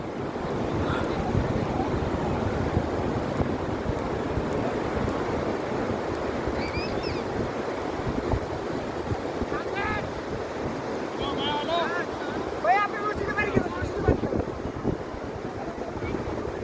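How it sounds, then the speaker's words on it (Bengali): Strong wind roars and buffets the microphone without pause on the beach at Cox's Bazar during parasailing, with brief voices calling out now and then beneath the gusts. "প্রচুর বাতাস আজকে, প্রচুর বাতাস।"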